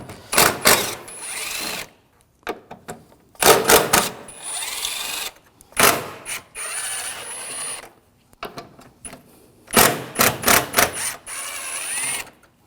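A hand ratchet with a T30 socket works the cooling fan bolts on a 2006-2009 Audi 4.2L V8, giving close, rapid clicking bursts in four separate runs with short quiet gaps between them.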